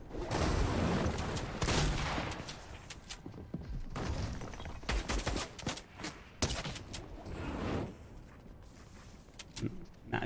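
Shootout in a competitive shooter video game, with heavy volleys of gunshots and sharp cracks in bursts that fade into sparser shots, a voice talking faintly underneath.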